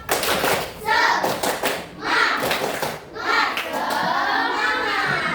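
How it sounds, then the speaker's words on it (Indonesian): Schoolchildren in a classroom perform a tepuk semangat clapping chant, bursts of hand claps and thumps in a rhythmic pattern alternating with their chanting voices, close and lively. "Semangat, coba tepuk semangat"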